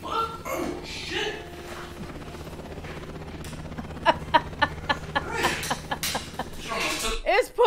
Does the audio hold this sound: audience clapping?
no